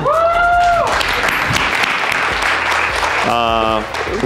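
A crowd breaks into sustained clapping that fills the whole stretch, with brief voice-like tones and a synthetic jingle at the start and near the end.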